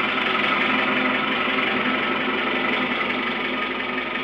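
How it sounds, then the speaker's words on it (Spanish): Powerful ship engines roar through a large engine room aboard a 1960s cod-fishing vessel on the route to Newfoundland, a dense, steady, deafening mechanical drone that stays loud and unbroken throughout. "Se necesitan potentes motores como este que llenan una gran sala de máquinas con un ruido ensordecedor."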